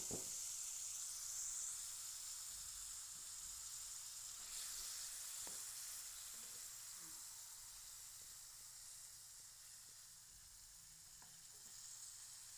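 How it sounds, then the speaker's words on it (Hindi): Marinated chicken frying in a little oil in a pan, a soft continuous sizzle and hiss with a few faint taps, quiet and steady, no voices. "अब एक पैन लें, इसमें थोड़ा सा ऑयल शामिल करें इसको फ्राई करने के लिए।"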